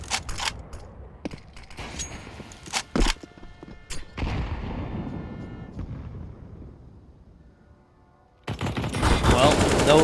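Gunfire in a competitive online shooter match, sharp shots and short automatic bursts up close, followed by a long echoing explosion-like tail and a loud dense barrage of fire at the end, with commentators talking over it.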